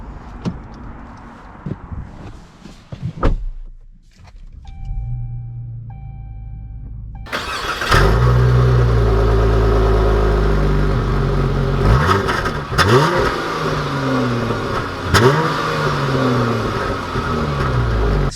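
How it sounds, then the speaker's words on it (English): A 2020 Chrysler 300 S Alloy Edition: faint cabin clicks and a door close, a chime, then the engine starts and the car drives off with loud low engine rumble and rising, shifting gear revs. "let's take this Alloy Edition out and see how it drives"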